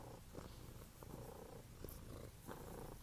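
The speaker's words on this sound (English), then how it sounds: "Can you hear my cat purring?" A cat purrs close up, a soft, steady rhythmic rumble with regular breathing pulses and nothing else over it.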